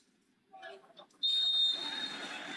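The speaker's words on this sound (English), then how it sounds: "Referee blowing the whistle." Referee's whistle blast at an Eastbengal versus Chennaiyin FC Super Cup football match, one sharp sustained shrill tone rising over crowd noise after brief commentary.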